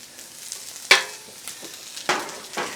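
Onions and bone marrow frying on a hot griddle, a soft steady sizzle broken by a few sharp scraping or spatula hits, close and fairly quiet with no talk.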